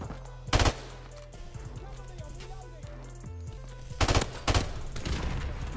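Bursts of automatic gunfire from Modern Warfare Remastered multiplayer, with a loud close burst near the start and two more near the end, over steady low game ambience and engine-like hum.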